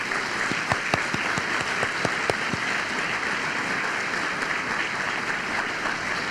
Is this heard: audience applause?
yes